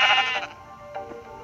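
Sheep bleat in a short, loud, harmonic cry at the start, then a fainter second bleat follows after a pause, with no talking.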